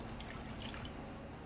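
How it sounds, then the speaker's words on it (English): Melted browned butter pours into a mixing bowl, giving a soft, continuous, faint liquid trickle with no pauses. "We're gonna pour the browned butter in the bowl."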